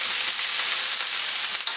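Ginger, garlic and drained chickpeas fry together in a pan, a constant bright sizzle heard up close without any talking.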